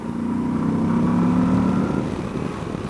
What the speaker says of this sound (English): It's a nice noise out of that engine.